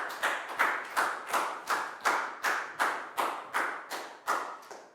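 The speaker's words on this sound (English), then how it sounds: "Big round of applause for Pat," Classroom applause for a student in a Year 4 maths lesson: about a dozen sharp, evenly spaced claps in a steady rhythm, close and distinct, each with a short ringing tail.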